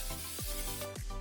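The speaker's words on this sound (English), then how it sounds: "Now we're just going to spray a little bit more olive oil." Olive oil spritzed in short pump-spray bursts over chicken drumsticks in an air fryer, two or three quick close hisses in a quiet room.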